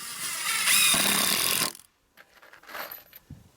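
A power driver sinks screws into wooden boards on a homemade firewood hauling trailer, with a loud, steady whirring drive for over a second that cuts off abruptly, then a fainter, shorter whir and a light knock.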